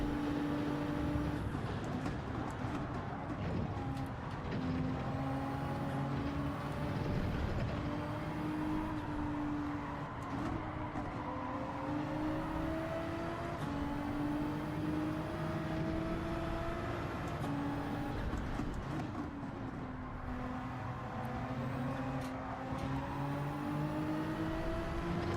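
Racing car engines in Gran Turismo, including a Supra, hold a steady droning whine that rises and falls in pitch through gear changes for the whole stretch, with the sound of a running race and no talk.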